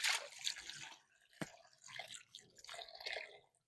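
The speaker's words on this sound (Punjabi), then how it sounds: "ਵੈਸੇ ਤਾਂ ਮੈਂ ਕੜਾਈ ਜਿਹੜੀ ਆ ਨਾ ਧੋ ਕੇ ਰੱਖੀ ਸੀਗੀ, ਲੇਕਿਨ ਮੈਂ ਆਖਿਆ ਇਹ ਨਾ ਦੁਬਾਰਾ ਪਾਣੀ ਮਾਰ ਦਿੰਨੀ ਆ" A kadhai being rinsed with water in a village kitchen: quiet splashes and trickles come in short bursts, with a sharp clink of the pan in the middle and no voices.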